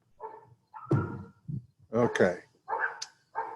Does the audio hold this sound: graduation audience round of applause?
no